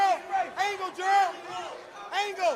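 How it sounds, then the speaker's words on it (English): The San Antonio Snipers fight team yells from the corner during a boxing-style bout, a string of short, loud shouts rising and falling close by, mixed with commentary. "you can hear the San Antonio Snipers team behind us right now cheering on their teammate"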